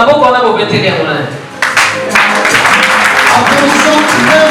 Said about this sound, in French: Applaudissons très fort pour M. Kaya